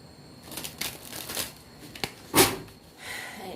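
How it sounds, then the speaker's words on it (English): Tarot cards being shuffled by hand in several quick riffling bursts, close and fairly quiet, with short pauses between shuffles and no talking. "So every time I shuffle, maybe I'll shuffle up here."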